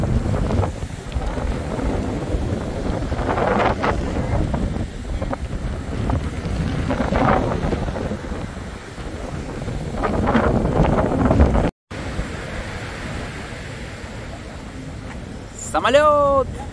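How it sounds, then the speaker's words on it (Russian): Strong seaside wind on the coast at Nice buffets the microphone with loud, gusty rumbling surges, and the sound of the sea runs beneath it; a brief dropout comes near the middle. "Нереально ветрено"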